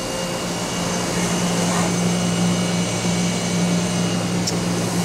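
The RF generator of an Oxford Plasmalab 100 ICP etcher runs in a cleanroom lab, giving a steady, moderate fan-like hum and broadband airflow rush with a faint tonal whine, no talk.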